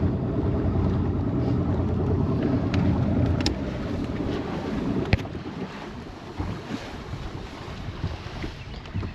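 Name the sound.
wind while fishing from a boat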